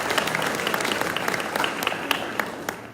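Audience applause at a Chula Vista mayoral candidate forum, steady sustained clapping from a crowd at moderate distance throughout.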